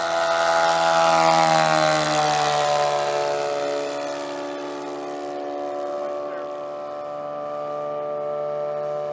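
A 60% scale JR customized Hempel Cub RC plane with a twin-cylinder 3W275 engine flies past at an air show, its harmonic engine drone loud at first and then easing as it moves away, steady for the rest.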